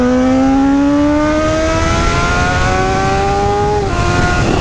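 Honda CBR 600RR with a stainless steel 304 exhaust tip under way, its engine note climbing steadily in pitch through a gear and then dropping at a shift near the end, loud and close over wind rush.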